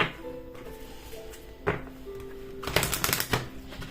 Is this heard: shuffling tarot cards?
yes